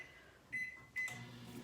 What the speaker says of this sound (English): pop it back into the microwave for another 30